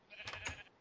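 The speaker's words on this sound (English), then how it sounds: "That sheep, Shaun, is still on top of the bloody well." A sheep bleats in a Minecraft world, one short wavering cry close by, standing clearly on its own.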